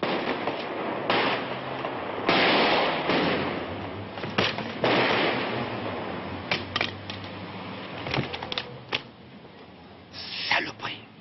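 Gunshots in a French action film: sharp, loud cracks fire in irregular bursts through the scene, with background noise and some speech mixed in.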